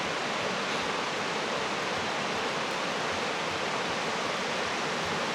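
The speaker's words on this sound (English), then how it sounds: "Finally, some waterfall." A waterfall in Yellowstone or Grand Teton National Park roars as a steady, dense wash of rushing water, loud and unbroken from start to end with no voices.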